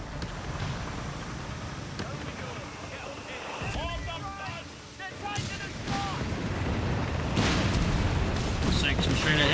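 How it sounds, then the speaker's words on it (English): Self-propelled artillery in the Company of Heroes 3 war game booms amid rumbling battle noise and scattered gunfire, with a commentator talking over the action throughout. "Some self-propelled artillery."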